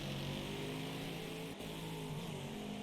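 Trans-Am race cars lapping the Rosenheim track in Wreckfest, a dense, continuous engine roar from several cars running close together, holding steady with a brief dip midway.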